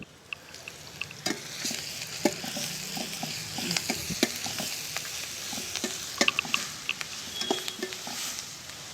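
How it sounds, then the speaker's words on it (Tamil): Ginger garlic paste stir-fried in a pan for quail gravy, with a soft continuous sizzle broken by frequent scraping and tapping strokes of a spatula, quiet and close. "இஞ்சி பூண்டு பேஸ்ட்டை சேர்த்து நல்லா பச்சை வாடை போகிற வரைக்கும் வதக்குங்க"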